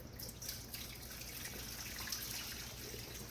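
Boiling water from a glass canning jar being poured out into a kitchen sink, a steady faint splashing trickle with light drips, heard alone with no talk.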